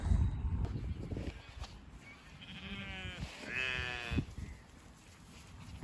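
Sheep bleat in a wet farmyard at tupping time, a couple of drawn-out, wavering calls standing clear of steady rain-like noise and scattered knocks.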